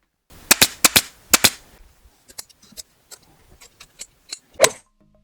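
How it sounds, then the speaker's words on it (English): A staple gun fires staples to fix fabric onto the end of an upholstered wooden bed frame: several loud, sharp close-up shots in quick pairs, followed by lighter irregular clicks and taps and one final firm shot. "So on here we're going to staple off. I'm going to staple off on the ends."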